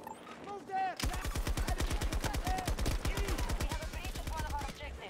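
Light machine gun firing in the shooter Battlefield 2042, a long rapid burst of evenly spaced shots that is close and loud, running for about four seconds under occasional voices.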